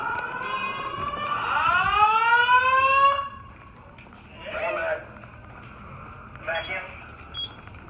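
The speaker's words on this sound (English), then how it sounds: "This says we know we've got a fire alarm" A school fire alarm sounds loudly for about three seconds with a rising, layered electronic tone, then cuts off, leaving background room noise and a few brief bursts of people talking.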